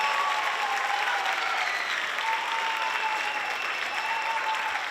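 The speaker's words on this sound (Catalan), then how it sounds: "Un fort aplaudiment per ells, sisplau." Steady, dense applause from a theatre audience at a Barcelona school performance show, loud and continuous throughout with no talking over it.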